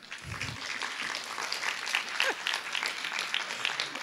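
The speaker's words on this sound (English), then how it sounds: "I'm loving that there's applause." An audience at a welcome and reflections session on a conference's second day breaks into steady, sustained applause, a dense wash of many hands clapping that stays loud throughout, with a brief low thump early on.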